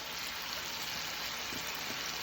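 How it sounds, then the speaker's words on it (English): Sweet potatoes sizzle in a hot pan with ginger soy sauce, a steady, even frying hiss that holds close and constant throughout, with no voices. "I'm going to put the sweet potatoes"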